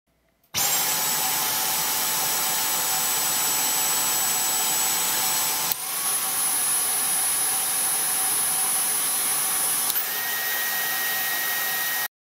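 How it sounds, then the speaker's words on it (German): A Dyson Cyclone V10 cordless vacuum cleaner starts up and runs with a loud steady whine, its pitch stepping up and then down as the suction setting changes, with no talking. "Dieser Staubsauger besitzt drei Saugstufen."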